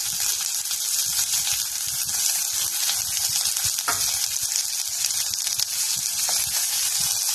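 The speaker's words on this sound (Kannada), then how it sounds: "ಹೆಚ್ಚಿಕೊಂಡಿರೋ ಪಾಲಕ್ ಸೊಪ್ಪು ಹಾಕಿ ಚೆನ್ನಾಗಿ ಹುರಿಯಿರಿ" Chopped spinach sizzles and crackles steadily in a hot pan, with occasional stirring scrapes, close and continuous.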